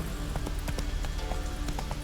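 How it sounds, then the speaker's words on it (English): Hooves of a galloping horse in The Witcher 3: Wild Hunt pound in a steady, quick rhythm, loud and close, over a faint tonal background. "Every horse he has is named Roach"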